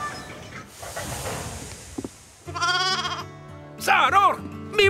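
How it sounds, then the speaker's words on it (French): Sheep bleat in a cartoon farm setting, two clear, wavering calls in the second half, loud and close, after a hiss and brief train-like noise at the start. "Mes moutons!"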